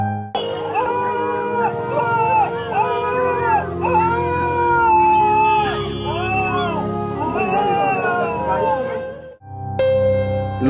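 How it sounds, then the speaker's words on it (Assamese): A puppy crying after being hit by a vehicle, another pup crying alongside: loud, close, wavering high-pitched whines and wails, repeated almost without pause, with a brief break near the end. "লগত থকা আনটো পোৱালিও চিঞৰিছে"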